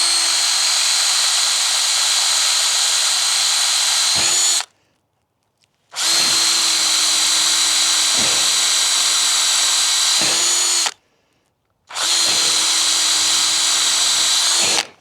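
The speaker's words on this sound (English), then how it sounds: "when I'm drilling these holes" A power drill on high speed bores holes into a tough wooden pole, running in three long, loud, steady whines separated by brief pauses.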